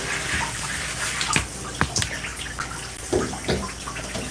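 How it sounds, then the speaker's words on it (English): Water streams steadily from a tap over hair during a wash-and-go styling routine with the head tipped forward, a constant close splashing hiss broken by a few louder drips and splashes. "so that the water can run down"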